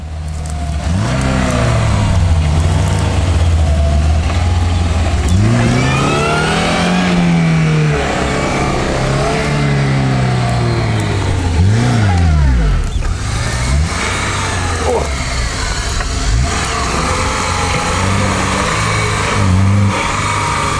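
A car engine revs hard while driving through deep sand, rising and falling in repeated strained surges with heavy throttle and no talking.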